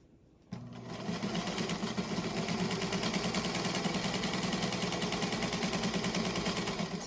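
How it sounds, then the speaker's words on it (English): A sewing machine runs steadily, stitching light quilt squares corner to corner for an 8-inch harvest quilt block, a continuous close mechanical whir starting abruptly after a short quiet lead-in and holding for about six seconds. "Sew from corner to corner."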